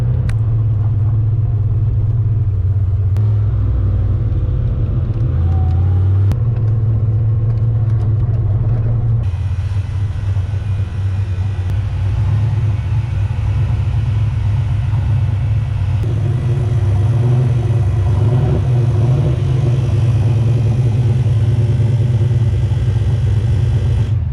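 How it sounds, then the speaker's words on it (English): A turbocharged Fox-body Mustang engine runs steadily and close for the whole stretch, a constant low rumble with slight shifts in pitch as the car creeps forward onto a scale. "Get our black car put up on the scale."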